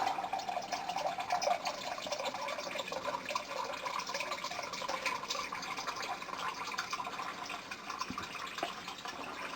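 Water, about four cups, pours and splashes steadily into a cooking pot for several seconds, a continuous close-up trickling rush with no voices.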